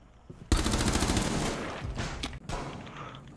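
Gunfire in the video game Rainbow Six Siege: after a quiet opening, a loud, dense burst of rapid shots starts abruptly and runs on with a brief gap before more firing.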